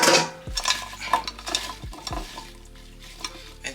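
Butternut squash pieces are spread around a hot pan for a low-carb dish, with steady close frying sizzle and repeated scraping and clinking of a utensil against the pan.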